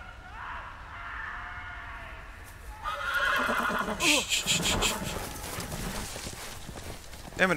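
Horse neighs and whinnies loudly in a Game of Thrones video game, followed by hoof clip-clops and shuffling movement close by.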